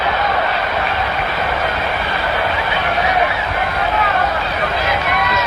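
A large baseball crowd at a 1975 World Series game, Game 7 between the Reds and the Red Sox, fills the stadium with a dense, steady roar and babble that holds throughout without breaks.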